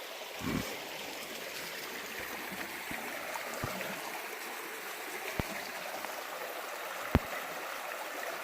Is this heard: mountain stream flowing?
yes